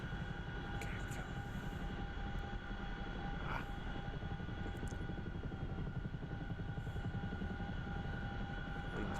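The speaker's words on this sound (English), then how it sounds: "You're gonna see me land this Chinook." Twin-rotor Chinook helicopter in the DCS flight simulator coming in to land, a loud, steady rotor and turbine roar with a constant whine, close and continuous throughout with no voices.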